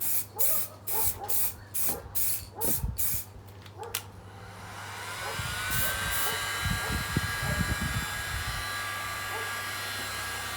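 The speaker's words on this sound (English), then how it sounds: "you spray how you want to spray" Short bursts of an aerosol spray can hissing in a regular rhythm while spray painting a Jaguar XFR headlight, then a longer continuous spray with a few clicks and rattles.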